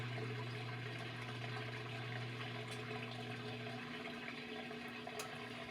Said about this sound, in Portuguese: A máquina está jogando água fora e esse barulho é intermitente.